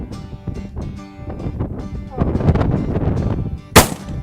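Shotgun fire during a shooting lesson on a range, several muffled reports amid outdoor noise with an instructor talking, ending in one sharp, loud close blast.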